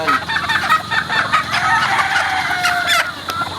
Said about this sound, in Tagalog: mga perfect na mga manok ito.